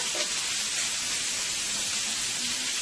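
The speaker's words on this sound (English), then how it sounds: "Into the same pan, we are going to add our shrimp." Shrimp laid flat in a hot frying pan give a steady, close sizzle of hissing oil, with no talk over it.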